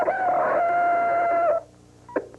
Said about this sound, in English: That sounds like one of those sick chickens there.